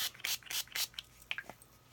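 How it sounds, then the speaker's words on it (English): Several quick, soft spritzes from a Stampin' Mist spray bottle onto card stock in close succession, followed by a few fainter puffs, quiet and close. "You just spray this onto the wet side"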